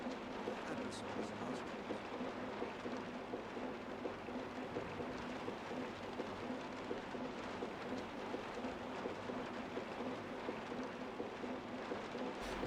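Steady rain hiss from the video game Jurassic World Evolution fills the scene continuously, with a low rumble that may be distant thunder, constant and moderately loud throughout.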